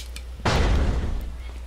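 Rapid gunfire from the Resident Evil 4 video game: a loud, dense burst of shots with booming low end that starts suddenly and runs about half a second before trailing off into quieter game ambience.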